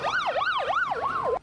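An ambulance siren wails up and down in smooth, fast cycles through the streets of Peshawar. It is loud and close and stops abruptly at the end.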